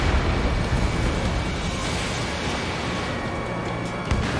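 A missile launched and exploding in Ace Combat 7, a loud sustained roaring blast and rumble with a small pop near the end.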